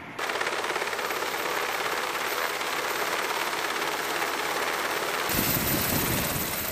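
Rescue helicopter hovering over mountain terrain while hoisting a body down, a steady loud rotor chop with continuous engine roar throughout, close by and unbroken.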